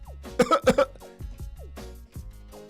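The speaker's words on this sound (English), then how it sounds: "You have a cough?" A few close, sharp coughs in quick succession, followed by quieter throat sounds and faint background noise.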